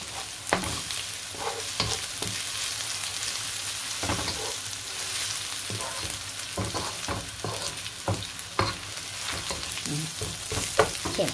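Onion and ginger fry in a pan with a constant sizzle, broken repeatedly by scraping stirs of a spoon at an uneven pace.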